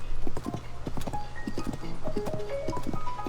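Horse hooves clip-clop steadily in a fantasy adventure game while riding along a path, rhythmic hoofbeats up close with soft game music tones drifting over them.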